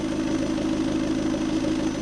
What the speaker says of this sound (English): Let me just give you a nice little bit of that exhaust once again.